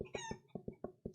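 Chickens cluck as a radio show sound effect: seven short, sharp clucks in an uneven rhythm, close and fairly clear, with no talk over them.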